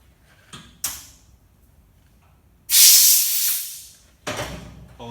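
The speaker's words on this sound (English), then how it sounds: "Blow this cap out." Compressed air blasts from a nozzle to clean out a cap from a Toyota Hilux Vigo engine, three loud hissing bursts with the longest in the middle, separated by quiet.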